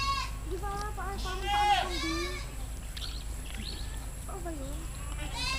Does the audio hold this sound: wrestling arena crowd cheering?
no